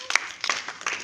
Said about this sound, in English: Clap for Donald.